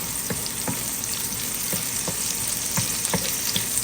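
Fajita vegetables hiss and crackle steadily in a hot pan, with close frying sizzle throughout and a few soft stirring clacks in an irregular rhythm.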